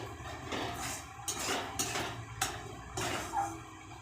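Paste of boiled prawn heads frying in a pan, with a soft sizzle broken by a few scraping, clinking strokes of a utensil against the pan, close and fairly quiet, without talk.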